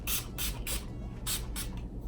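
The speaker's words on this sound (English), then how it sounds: "I just bought this Wet n Wild cucumber spray, and it's amazing." A Wet n Wild cucumber face mist sprays in five quick bursts, close and soft hissing puffs spaced about a quarter second apart, with the last two following a short pause.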